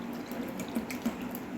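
Water pours and trickles steadily at close range, with a few soft splashes and drips standing out over the continuous flow.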